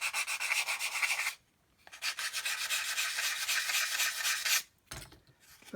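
A zebra sanding stick rubs back and forth over a part of a 1/25 scale HobbyBoss Land Rover model kit, making close, rhythmic raspy strokes in two long bursts separated by short pauses, with no talk.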